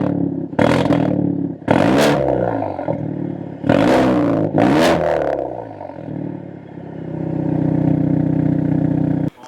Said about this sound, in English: after hearing that car rev